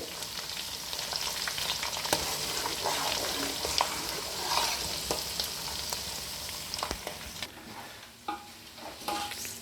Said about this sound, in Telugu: చూడండి ఎలా వేగుతున్నాయో ఇట్లా వేగాలండి